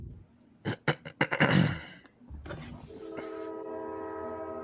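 A train rolls past with a sharp burst of clattering near the start, then a loud, sustained horn blast holds steady through the second half.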